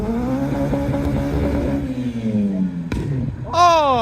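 A scooter passes by at a loud car meet, its engine whine sliding downward in pitch as it goes past close by, followed by a brief sharp noise and an excited voice calling out.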